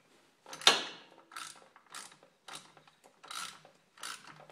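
Ratchet cranking a belt removal tool to spread open the clutch on a Polaris RZR side-by-side, heard as a sharp initial clack followed by five or six separate bursts of ratcheting clicks at a steady pace, close up.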